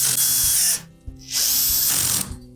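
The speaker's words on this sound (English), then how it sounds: "we'll go ahead and put the remainder of the subtop screws in place" Power drill driving subtop screws into a Whirlpool range, two loud close whirring bursts separated by a short pause, ending with a brief stop.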